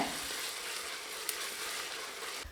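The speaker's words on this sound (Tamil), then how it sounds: "இதை சேர்த்து நல்லா பச்சை வாடை போகிற அளவுக்கு வதக்கி விட்டுக்கலாங்க" Ginger garlic paste and green chilli sauté in a pan for drumstick biryani, giving a steady, close sizzle that holds evenly throughout with no talking.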